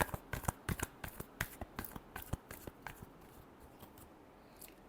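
Tarot cards are shuffled by hand in a quick series of crisp, close riffling flicks that gradually slow and soften, with no talking.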